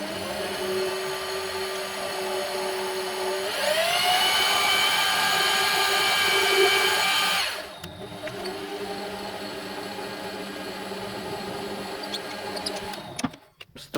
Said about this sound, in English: so that's good enough for me to put that in the drill chuck